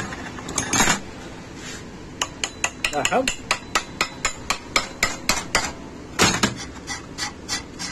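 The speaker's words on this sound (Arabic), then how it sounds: "دقات خفيفة" A hammer delivers light taps on a metal part, about a dozen short, sharp, close-up knocks spaced fairly evenly, with a brief spoken word among them.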